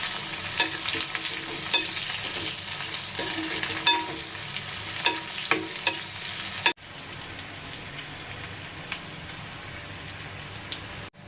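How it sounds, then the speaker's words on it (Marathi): Chopped onion sizzles in a pan for dahi tadka, with frequent scraping stirs and clicks of a spoon for several seconds before the frying quiets to a softer, steady hiss near the end. "कांदा छान असा परतवायचा आपल्याला इथे"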